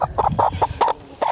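Adult chickens in a Hawaiian backyard coop during winter give a run of short, repeated clucks in uneven bursts, close and fairly loud, with no talking over them.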